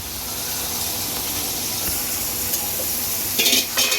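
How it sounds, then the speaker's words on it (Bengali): Mutton frying with onions in a pan for Bengali kosha mutton, giving a steady, loud sizzle and hiss throughout, with a few stirring scrapes near the end. "পেঁয়াজ দিয়ে মাংসটা ভালো করে ভাজা হচ্ছে"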